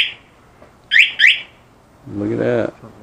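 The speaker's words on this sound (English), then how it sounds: "Oh, it's the alarm." An alarm on a new 2019 Bashan Brozz 250 dual-sport motorcycle gives two sharp electronic chirps close by, followed by a brief spoken remark.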